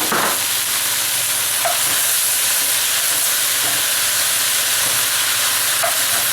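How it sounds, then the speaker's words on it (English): Loud, continuous hissing sizzle from a hot pot as bacon and tomatoes go in for a beef chuck roast, with a dense steamy roar and occasional stirring knocks, close. "Okay, the bacon goes in. The tomatoes go in."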